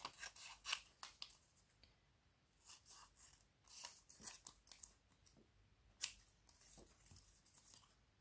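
Paper for a journaling page is cut with scissors, a series of close, quiet snips and crisp slicing strokes in irregular bursts with soft rustling between them.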